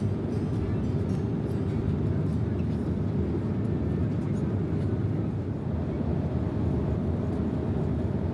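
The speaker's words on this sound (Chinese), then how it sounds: "从马尼拉飞往伊斯坦布尔的飞机是波音 777-300客机" Cabin of a Turkish Airlines Boeing 777-300 airliner in flight from Manila to Istanbul, a steady, heavy low roar and rumble that holds unbroken throughout, with no voices over it.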